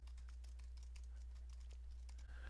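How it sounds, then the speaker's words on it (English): An email address is typed on a computer keyboard in quick, light, irregular key clicks over a steady low hum. The sound is faint and close, with no talking. "I'm going to type out my email address"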